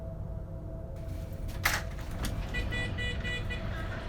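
Car horn honking in a horror video game, one short honk followed by a second, fainter toot, over a steady low background hum.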